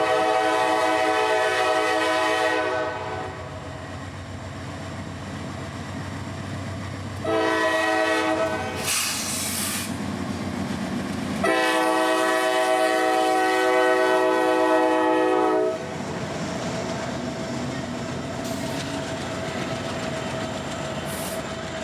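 Freight train 330 on the FEC passes on track 1, sounding long, loud horn blasts in several bursts over a continuous rumble and clatter of rolling cars.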